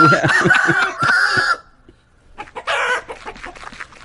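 Chickens cluck and a rooster crows as a sound effect on a radio show, with a loud burst of cackling followed by a brief pause and a second crowing call.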